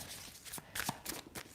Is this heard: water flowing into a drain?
no